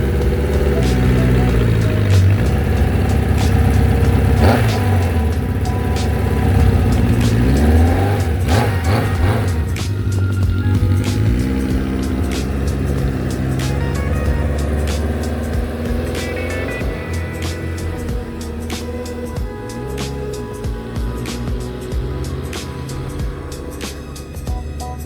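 A quad ATV with an upgraded carburetor and exhaust runs loudly and close, its engine droning and revving in surges before easing to a rougher, slightly quieter idle.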